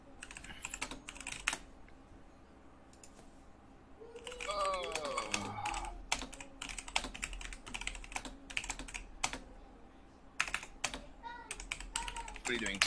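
Rapid clicking of a computer keyboard during an online survival game, continuous close keystrokes in bursts, with a person talking over part of it.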